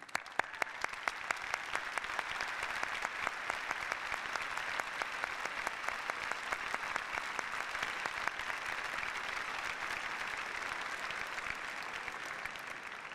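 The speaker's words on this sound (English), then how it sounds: "so that we can applaud your accomplishments" A convocation audience at the Rochester Institute of Technology applauds standing RIT Dubai students, a sustained, even roar of many hands clapping that holds steady throughout with no voices over it.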